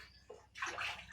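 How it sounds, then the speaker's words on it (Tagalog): Tap water runs into a sink while dishes are washed, a short gush of splashing that swells up after a brief quiet start, close and moderately loud. "Dinhi siya naghugas sa plato"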